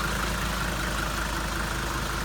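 A 1980 300D's old OM 617 diesel engine runs in a steady, continuous rumble at an even level, close by and with no break in the sound.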